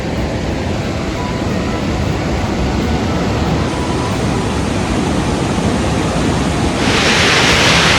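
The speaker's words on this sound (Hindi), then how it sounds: "ये नदियाँ और ये खूबसूरत पत्थर उनमें, और ये खूबसूरत आवाज़ जो आपको अक्सर मनाली के आसपास देखने को मिलेगी" River in Old Manali rushing over stones, a loud, dense, continuous roar heard close by, with wind buffeting the microphone and swelling toward the end.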